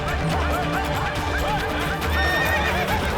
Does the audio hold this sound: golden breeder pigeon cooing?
no